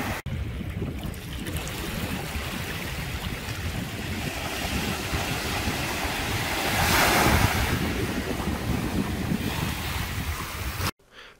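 Sea waves wash steadily onto an Indonesian beach, a continuous roaring surf with wind buffeting the microphone, building to a louder crash midway before cutting off abruptly.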